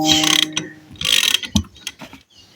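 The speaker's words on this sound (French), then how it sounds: "j'ai pris une clé, ça nous donne plus de force qu'une clé plate en fait" Ratchet wrench loosening a wheel nut on a 1968 Cox scooter being restored, several loud close bursts of rapid ratcheting clicks with short pauses between them.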